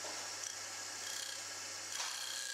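A wood lathe gouge cutting a spinning turning blank, its bevel rubbing as only the left edge cuts, gives a steady, close hissing shear over a constant low motor hum, with a brief swell near the end.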